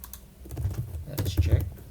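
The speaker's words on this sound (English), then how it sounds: "all we have to do is type the mv command" Clicky typing on a computer keyboard while entering a command in an Ubuntu terminal, a quick irregular run of close keystrokes with a brief spoken voice.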